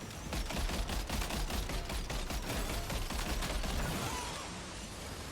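Rapid automatic gunfire in Death Stranding 2 rattles in a dense, continuous burst of shots at close range, loud throughout before easing slightly near the end.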